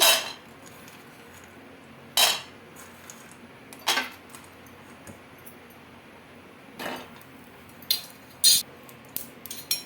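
Peanuts are dry-roasted in a kadai, heard as sharp metallic clinks and rattles of stirring against the pan, several isolated bursts spaced through a quiet background.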